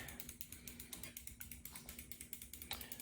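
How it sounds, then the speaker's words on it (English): A pedal wrench works on a bicycle pedal of a 1979 Schwinn Traveler III, giving quiet, steady ratcheting clicks in a repeating rhythm close by, with no talk. "So your pedal wrench would go like this, and then you just tighten it that way."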